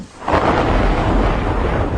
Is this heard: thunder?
yes